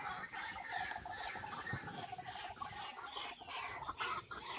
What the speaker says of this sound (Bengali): এর মধ্যে পাখি ডাকছে।